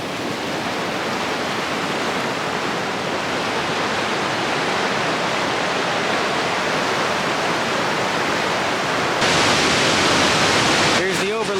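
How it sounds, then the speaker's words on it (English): The Tuolumne River rushes at Tuolumne Falls along the Pacific Crest Trail, a loud, constant roar of whitewater that brightens slightly near the end. "Crossing over the Tuolumne River."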